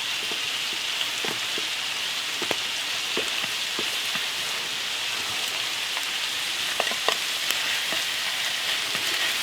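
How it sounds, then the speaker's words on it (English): Food frying in a pan on a camp stove at a solo winter wild camp, a continuous soft sizzle with scattered crackles and pops, steady and close, with no talking. "Yeah, she's starting to sizzle good now."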